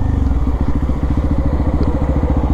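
A motorcycle engine running with a 14/36 gearing setup, a loud, close, rapid low-pitched chugging pulse that holds steady throughout, with no talking.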